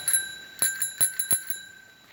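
A vintage German bicycle bell rings in four or five quick, bright metallic strikes, each leaving a sustained shimmering tone that fades between strokes, heard close up with no talking.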